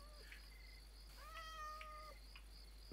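A cat meows repeatedly in Minecraft, with several short, clear, nearby calls rising and falling over a steady, faint ambient hum and insect-like chirping from the game world.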